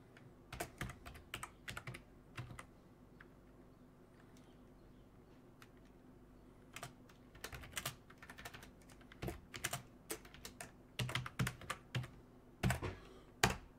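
Fingers tap a computer keyboard in irregular bursts of crisp clicks, with a quiet pause in the middle before the typing resumes, close and fairly soft.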